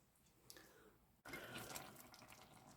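Tap water runs as hands are washed at a kitchen sink, a faint drip first, then a sudden strong steady splashing stream that continues close and unaccompanied by speech.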